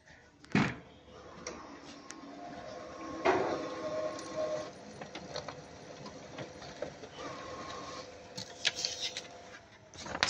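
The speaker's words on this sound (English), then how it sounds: "Okay, do a test page here." Ricoh MP C305 color printer running a test page, with mechanical whirring, clicks and sliding feed noises rising and falling over about ten seconds, close and moderately loud with no talk.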